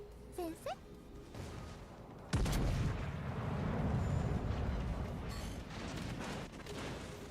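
Warship secondary guns fire in the naval battle game World of Warships: Legends, with one heavy, booming shot trailed by a long rolling rumble and a few lighter effects before it.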